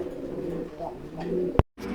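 A pair of pouter pigeons in a farm cage coo in soft, low, rolling calls close by, with a voice present and a brief loud knock followed by a moment of silence.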